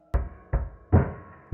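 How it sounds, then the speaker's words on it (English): Subtle drum loop fill made in FL Studio for an indie beat: four low, thumping hits with a bright click on the first, uneven spacing, moderately loud, with short decaying tails and no voices. "I have this drum loop that sort of hits down here, just acting as a fill"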